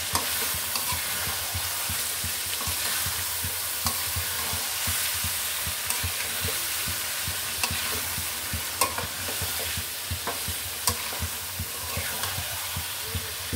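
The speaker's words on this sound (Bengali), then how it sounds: "মাংসটা এখন ঢাকি আমি মশলার সাথে ভালো করে মিক্স করে নেব।" Chicken meat stirred with spices in a pan, a steady scraping stir over a continuous sizzle of frying, close and fairly loud with occasional sharper clinks.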